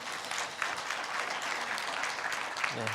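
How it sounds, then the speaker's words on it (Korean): A forum audience gives sustained applause at an international conference session in Seoul, a soft, even patter of many hands heard from some distance. A faint voice surfaces near the end. "한 번 더 박수로 예."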